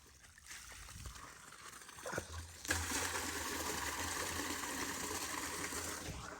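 Water flows and trickles near a home, starting as a faint dribble and then swelling into a steady, louder gushing stream that runs without a break to the end.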